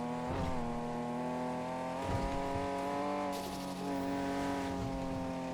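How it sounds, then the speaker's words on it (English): Car engine in a GTA race, a sustained harmonic drone with rising revs and brief tire squeals from a turbocharged car, loud and close, with no voices over it. "this car flies now that I have the turbo"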